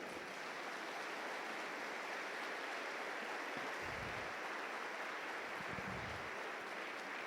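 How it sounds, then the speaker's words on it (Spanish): A church congregation claps steadily during a sermon, a continuous, even roar of many hands with a few low thumps underneath. "Puede darle un aplauso a ese Señor."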